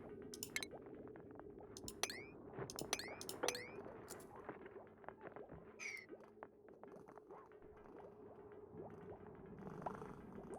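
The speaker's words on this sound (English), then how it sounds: "Oh, you're such a purr bucket, kitten." A domestic cat purrs softly at close range, a low steady rumble running under scattered sharp chirping and clinking sounds.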